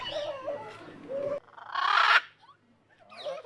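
A macaw in a cage at Chattogram Zoo gives several nearby calls, with warbling tones and one harsh, loud squawk in the middle, separated by brief quiet gaps.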